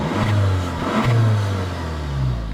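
A Volkswagen Alltrack's 1.8 TSI gasoline engine revs up and eases off twice in quick succession, loud and close with a snappy rising note.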